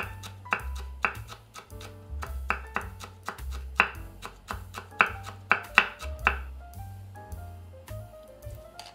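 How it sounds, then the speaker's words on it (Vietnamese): A knife chopping young betel leaves into thin strips on a cutting board, with quick close taps in a rhythmic series over soft background music that continues after the cutting stops. "các bạn cần chuẩn bị thêm cỡ 10 lá lốt non, cắt sợi mỏng"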